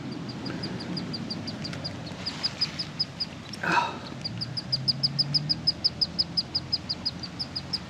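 High, thin peeping chirps of a wood duck duckling repeat in quick steady series, growing denser later, over a low background hum with a brief louder rustle midway.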